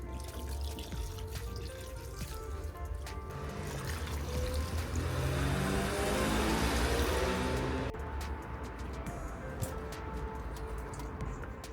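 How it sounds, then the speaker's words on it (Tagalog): Water is poured from a container onto garden plants on a hot day, a continuous splashing trickle that grows fuller and louder before stopping abruptly, followed by light dripping and small clinks. "maglalagay na lang din ako ng tubig guys kasi parang uminit."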